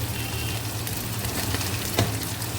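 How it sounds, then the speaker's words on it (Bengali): Cumin powder, turmeric powder and salt frying and being stirred in a hot kadai, a steady close sizzle with a low hum underneath and a brief scrape of the spoon near the end. "ভালো করে এবার মশলাগুলোকে আমি কষিয়ে নেব।"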